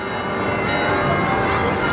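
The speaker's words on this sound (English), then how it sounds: "We're back here again with the bells." Church bells ringing continuously in Bruges, Belgium, at night, a dense wash of overlapping tones with no pauses, fairly loud and steady throughout.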